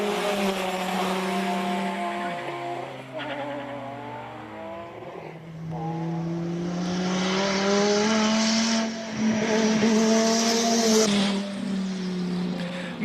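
A BMW E36 race car with a naturally aspirated six-cylinder engine climbs a hill climb course in Cape Town, revving hard through several gear changes with rising and falling engine pitch, loud and close, ending in a sustained high-rev wail.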